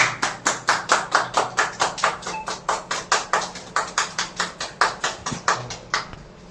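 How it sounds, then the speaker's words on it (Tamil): An audience claps in a brisk, even rhythm of about four sharp claps per second, loud and close, steady for several seconds before trailing off. "கை தட்டுங்க."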